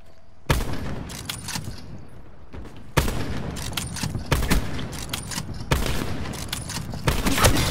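Gunfire in the video game Black Ops 4 comes in three loud, sharp bursts of rapid shots, each followed by a brief drop to quieter background game noise.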